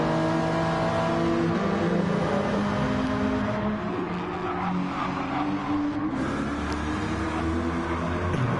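Race car engines in a PS4 racing game, including the famous number 69 car, roar and rev steadily and loudly throughout, with a harmonic engine drone.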